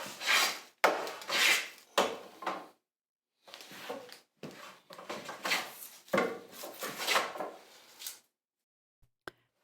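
A hand plane shaves the edge of a wooden trim piece down to a marked line, giving a series of rasping, swishing strokes in uneven bursts, close and clear with short pauses between passes.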